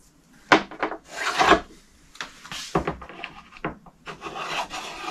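A plastic scraper drags wax off a snowboard base in close, raspy strokes, several uneven scrapes of varying length and loudness with short pauses between them.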